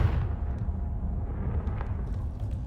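A Confringo fire spell blast in the video game Hogwarts Legacy, a loud, sustained booming rumble with dense low-end rolling throughout, no speech over it.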